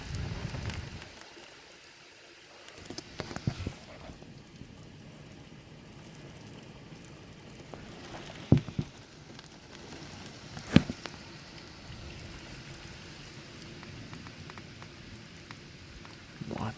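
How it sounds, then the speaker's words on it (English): Heavy rain pours steadily during an intense thunderstorm with strong wind gusts. A constant hiss is broken by a few sharp knocks and cracks. It sounds fairly distant and muted, with no clear talking. "Lots of rain coming down."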